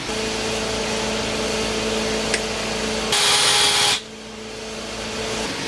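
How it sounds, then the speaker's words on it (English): A loud, steady whine of a power drill running for about a second, standing out over a constant background hum, then cutting off. "Now we're going to drill our hole down here so we can feed them through."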